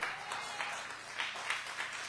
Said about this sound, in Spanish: Señor, denle un aplauso a Dios.